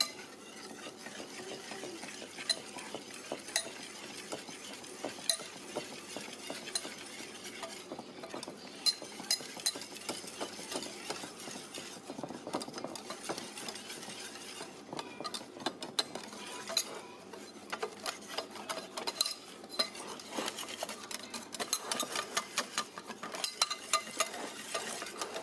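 Batter being mixed with flour in a bowl, likely in a Monsieur Cuisine Plus kitchen machine, giving a steady scraping, stirring texture with occasional light clinks that runs continuously at moderate level without talk.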